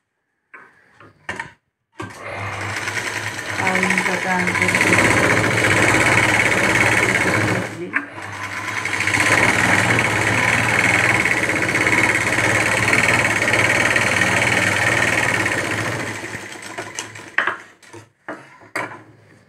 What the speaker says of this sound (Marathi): अशा प्रकारे आपल्याला शिवून झाले पहा.